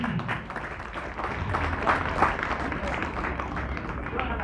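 A crowd at a football tournament prize distribution gives a semi-finalist school team sustained applause, a dense outdoor patter of clapping with some crowd noise and voices mixed in.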